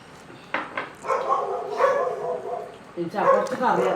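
A dog barks in short close yaps and woofs over the course of a few seconds, while people talk nearby.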